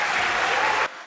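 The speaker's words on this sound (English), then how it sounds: "the entirety of that room can't help but clap for that" A university debate audience breaks into loud, dense applause, a sustained wash of clapping from a full room that cuts off abruptly near the end.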